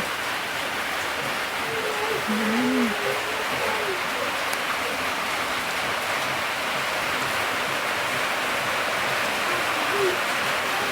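Steady, heavy rain pours through the day in rural Laos during a storm, a dense even hiss throughout, with a faint voice briefly underneath.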